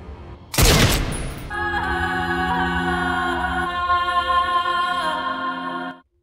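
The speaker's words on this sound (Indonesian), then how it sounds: "Fatih menembak mati Raza." A single sharp, loud gunshot in an Indian action film, followed by sustained dramatic music that swells and holds for several seconds before stopping abruptly.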